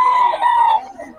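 Chickens and a rooster at a poultry market in Bocaue, one close, loud fowl call held for most of a second and then fading, with no other sound around it.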